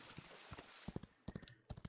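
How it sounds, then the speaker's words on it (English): Horse hooves clip-clop in the Old West game Outlaws of the Old West, sounding as quick, uneven clusters of hollow hoof knocks close by with faint background ambience and no talk. "Got ourselves a horse."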